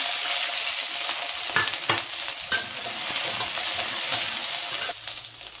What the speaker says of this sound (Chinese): 然后锅中再放适量的油， 把蒜苔炒一下